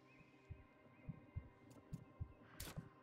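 A heartbeat in the video game Nightingale thumps quietly in a steady rhythm, about eight low pulses, with a brief soft noise burst near the end.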